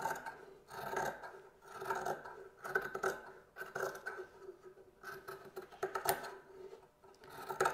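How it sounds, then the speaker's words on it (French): Scissors cut through excess recycled t-shirt fabric in a steady run of soft, close snips, about one every second, with no voices. "Donc, je vais venir couper l'excédent."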